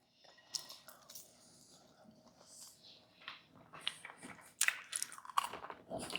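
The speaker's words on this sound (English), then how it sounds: "I'm going to try one of these Parmesan fries that we made" Crispy Parmesan fries are bitten and chewed close to the microphone, giving a run of faint, irregular crunches and moist chewing sounds that grow a little louder toward the end.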